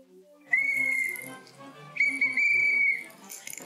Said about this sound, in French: cette fois-ci, un petit coup de sifflet.